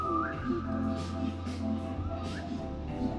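A short human whistle is heard inside the video game 3008: several brief rising whistled notes, fairly faint, over the game's steady background drone.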